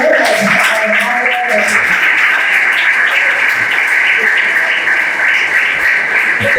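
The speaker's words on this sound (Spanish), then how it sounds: "Recibamos con un fuerte aplauso" An audience welcomes a speaker at a lecture with steady applause, continuous clapping under brief talk at the start.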